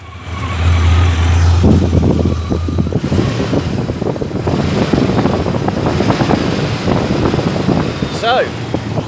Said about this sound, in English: It's happy days because the engine is now all up and running.